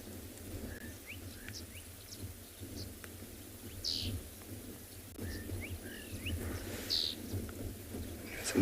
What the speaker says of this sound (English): Some beautiful bird calls in the distance.